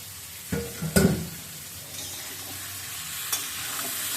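Fish frying in a pan with a spice paste, a steady close sizzle with a couple of clattering stirs and scrapes near the start and a light tap later.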